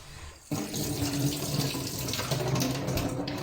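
Strawberries being washed under a running tap, the faucet opening abruptly into a loud, steady rush of water splashing into a sink, close and continuous.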